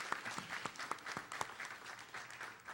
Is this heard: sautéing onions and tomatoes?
no